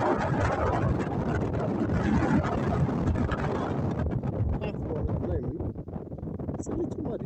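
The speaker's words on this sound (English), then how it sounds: "As you can hear, it's a bit windy." Strong coastal wind on the southwest coast near Brownham roars and buffets the microphone in a dense, continuous rush with no break, loud and close throughout.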